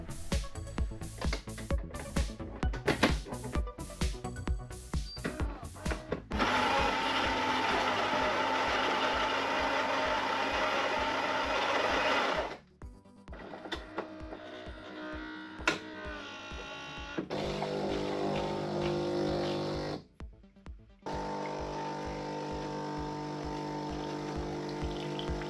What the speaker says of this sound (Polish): Na koniec wsypuję ziarno i patrzę, jak ekspres parzy tą kawę.